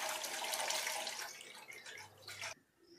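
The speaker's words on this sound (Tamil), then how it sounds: "நான் 2 லிட்டர் பால் ஊற்றுறேன்." Two liters of fresh, unskimmed whole cow's milk pour into a pot in a steady, close-up liquid rush that thins out and stops abruptly near the end.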